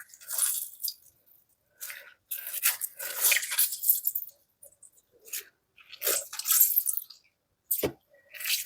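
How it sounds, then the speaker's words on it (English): Boiled flaxseed gel, cooled and pushed through a sieve, gives off close, wet squishing and slurping sounds in irregular bursts with silent gaps between them, plus one sharper tap near the end. "Time to sieve it."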